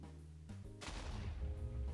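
A single TNT block explodes in Minecraft with a sudden booming blast that rolls into a long, rumbling, crackling tail, loud and close.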